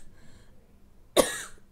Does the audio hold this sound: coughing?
yes